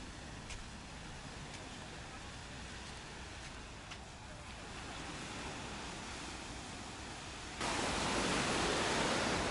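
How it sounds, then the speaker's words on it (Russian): Sea waves wash onto a beach in Alanya, Turkey, on a day with small swells: a steady, fairly faint broadband surf hiss with no voices, growing suddenly louder and closer near the end. "Немножко есть волны"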